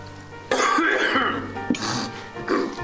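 Several short coughs and throat-clearing bursts come one after another, close and fairly loud, with brief pauses between them and no talk.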